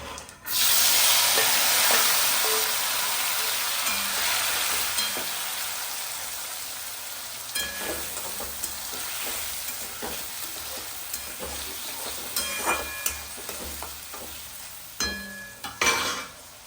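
Tomatoes tipped into hot oil with mustard seeds give a loud burst of sizzling that gradually settles into a steady frying hiss, with scattered scrapes and taps of a spoon in the pan toward the end.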